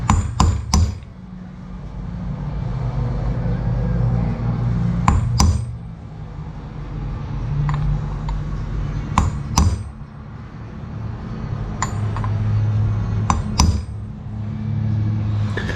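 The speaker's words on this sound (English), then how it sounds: "I'm gonna press in this center pilot bushing first, or tap it in, I should say." Hammer tapping a center pilot bushing into a 42RE transmission part in a workshop, heard as sharp metallic strikes in small clusters of two or three, spaced across the clip over a steady low background rumble.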